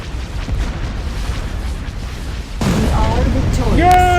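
Booming explosions and weapon blasts from a space battle in a strategy game, including ion cannon fire from a star destroyer, a sudden loud burst midway followed by rising whooshing tones under a continuous rumble.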